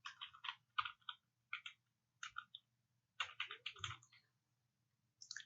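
Bursts of keystrokes on a computer keyboard as a website name is typed, quick clustered clicks in several short runs separated by brief pauses, close and fairly faint.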